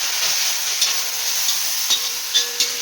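Fried rice vegetables with red chili sauce and soya sauce being stirred in a hot wok, giving a constant close sizzle broken by a few soft scraping strokes and no voices.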